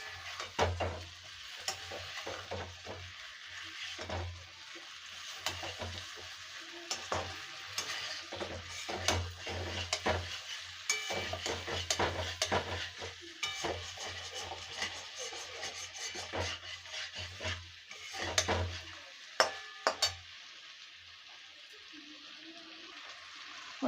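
A metal spoon stirs and scrapes jackfruit curry with tomatoes as it fries in oil in a pan in a village kitchen, with a soft continuous sizzle under repeated scraping strokes and no speech.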